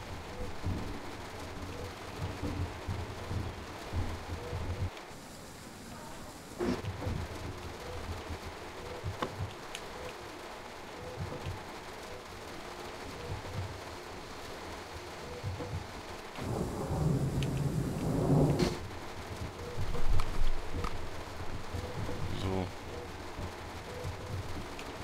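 Steady rainfall with rumbling thunder in a train simulator, on a freight run from Röderau to Dresden, a constant wash of rain with low rolls of thunder swelling louder in the second half.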